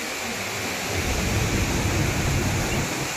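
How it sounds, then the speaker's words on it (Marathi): Bhavli waterfall near Igatpuri, a loud, dense roar of rushing water, close and unbroken, briefly swelling in the middle with no voices over it. "भावली धरणाचं एक प्रमुख पाण्याचा स्रोत असलेला हा भावली वॉटरफॉल"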